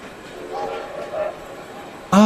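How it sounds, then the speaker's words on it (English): A train rumbles near a railway station, a low mechanical drone that ends with a sudden loud, bright horn blast; some faint talk may sit underneath. "the noise of a train"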